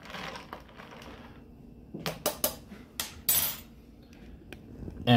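Spoon clinking and scraping against a glass while stirring a nitro cold brew cocktail with Tia Maria, tequila, mint and chocolate, a few sharp knocks in quick succession up close, no talk.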